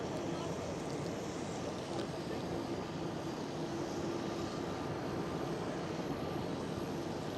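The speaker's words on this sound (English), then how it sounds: "Right now in the screen we do have Turkish Airlines A350 departing" A Turkish Airlines A350 departing Schiphol airport, with a steady, broad jet roar that holds at an even level throughout, heard from a distance.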